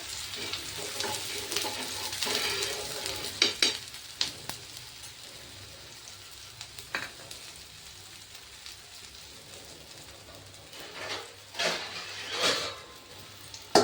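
A thalipeeth made from bhajani flour fries in ghee in a pan, giving a steady soft sizzle with louder crackling spurts here and there and no talking.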